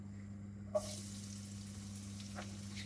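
Onions for a bitter gourd fry sizzle quietly and steadily in a pan, with a soft clink near the start and a low steady hum under the frying.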